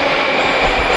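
Loud, steady rumble and hiss of a Moscow metro train running underground, a constant rushing roar with no break.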